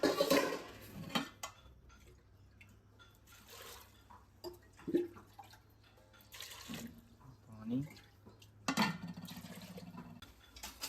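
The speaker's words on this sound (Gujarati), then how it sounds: "કુકરમાં બટાકા મૂકી દીધા બાફવા માટે ગેસ પર" Potatoes with salt placed into a pressure cooker on a gas stove in a home kitchen, with scattered clanks of metal utensils, running water and short bursts of clatter, interspersed with speech.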